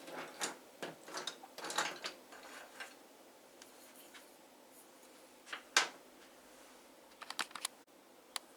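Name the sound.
drawing with a blue colored pencil on paper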